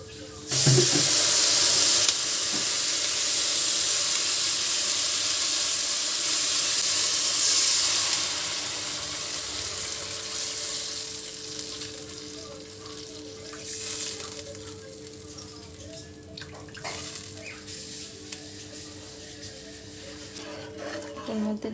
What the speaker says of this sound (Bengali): এবার এটার মধ্যে দিয়ে দেবো আমি জল